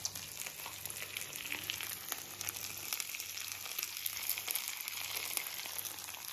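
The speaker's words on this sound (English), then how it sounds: "It's going in the hot fat" Vegan streaky bacon, THIS Isn't Streaky Bacon, frying in hot fat in a pan, giving a steady, close, crackling sizzle throughout with faint spitting pops and no talking.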